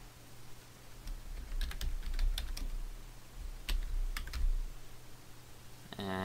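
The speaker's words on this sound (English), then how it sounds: "typing in some text for my first text layer" Text typed on a computer keyboard, scattered close key clicks in short bursts with pauses between them, fairly quiet and alone.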